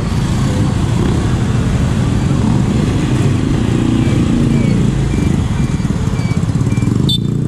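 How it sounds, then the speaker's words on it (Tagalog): Heavy road traffic with motorcycles on a busy provincial route: a steady, loud, close rumble of engines and passing vehicles throughout, with a brief clatter near the end. "Mas matindi ang traffic dito."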